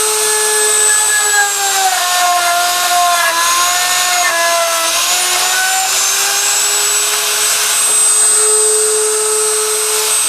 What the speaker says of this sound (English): Now I'm going to cut a mortise.